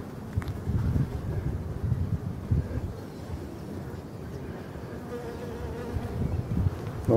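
Honey bees swarm around a hive beside rapeseed fields, a dense continuous buzz heard close up with gusting wind rumbling against the microphone throughout.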